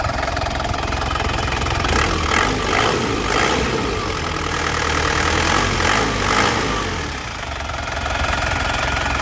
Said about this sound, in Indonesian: Oke, kita nyalakan mesinnya sudah.